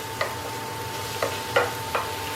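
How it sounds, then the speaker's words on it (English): Garlic, onions and mushrooms sautéing in a pan, with a soft continuous sizzle and four brief stirring scrapes spaced over a couple of seconds. "we're just going to saute this so we can smell the yummy garlic and the onions all mixing with the mushrooms"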